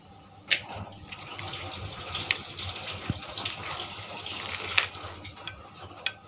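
Tap water runs over freshly cut crabs being washed, a steady low splashing stream with scattered clinks and knocks of shells against a bowl or sink, fairly close.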